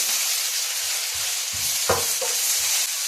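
A big heap of spinach is stirred in a hot pan, steady sizzling broken by several soft scraping and rustling strokes of the spoon; no voices.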